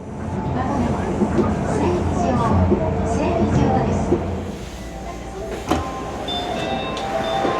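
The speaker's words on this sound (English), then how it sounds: "we can say goodbye to this monorail." Steady rumble and hum of a Tokyo monorail train at a station, with a few clunks and a short electronic tone, while someone talks over it throughout.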